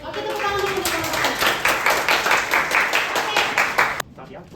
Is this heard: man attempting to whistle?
no